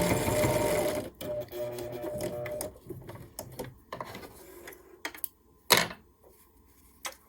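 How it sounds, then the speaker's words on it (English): A sewing machine stitches a 1/8 inch seam on a small quilt, a dense rattling run for about a second, then scattered clicks and taps as the work is handled, nearby and fairly quiet. "And I'm sewing about 1/8 of an inch seam."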